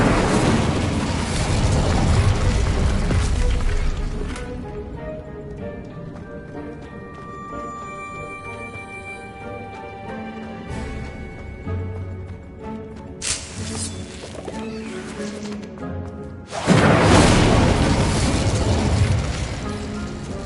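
Incendio fire spell cast in Hogwarts Legacy on PS5, loud bursts of game effects and whooshing, with quieter stretches of ambient game sound between them and surges at the start and end.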